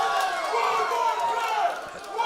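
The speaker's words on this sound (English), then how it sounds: "these fans here in the crowd chanting for one more time" A wrestling arena crowd chants and roars in a steady, dense wash of voices, loud and continuous throughout.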